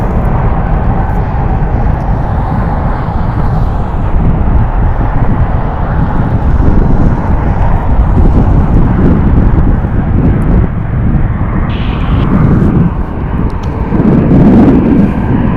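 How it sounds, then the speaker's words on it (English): A Southwest airliner taking off at Las Vegas Harry Reid International Airport, a loud continuous jet engine roar with wind buffeting that holds steady across the clip. "As this Southwest takes to the sky, the next one is taking the runway."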